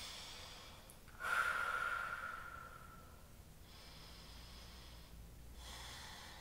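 During a yoga exercise one long, close inhale-exhale breath rises sharply and fades slowly, followed by two softer, airy breaths in a quiet room.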